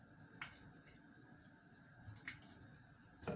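A faint trickle of water pours steadily into a bowl of pap, with a couple of small splashes, quiet and close.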